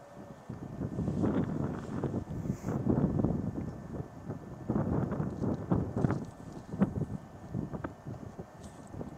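High wind buffets a clifftop during a flight of a Volantex Ranger 1600 RC plane, a steady, loud rumbling gusting against the microphone throughout with no talk.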